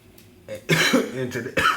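A few close, harsh coughs in quick succession, loud and abrupt.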